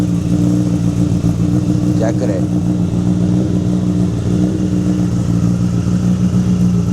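A motorcycle engine idles steadily and close by, a low rumbling throb throughout, with a brief voice speaking over it partway through.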